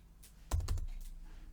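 A quick cluster of computer keyboard key presses while typing code in R, a few sharp close clicks in a rapid burst, alone over a quiet background.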